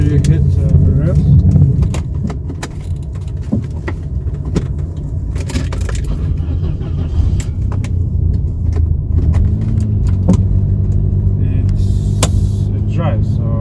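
An old car long left unused runs while driving, a steady low engine rumble with the revs rising near the end, plus scattered clicks and rattles and a person talking over it.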